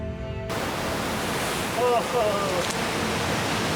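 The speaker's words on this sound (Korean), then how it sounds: "갑자기 거센 바람이 불기 시작하면서 파도도 높아졌습니다" Strong wind and high ocean waves at sea near Sasudo island off Jeju, on a boat voyage toward Gangjin, form a steady, loud, broadband roar of wind and surf that fills the whole stretch after a brief opening.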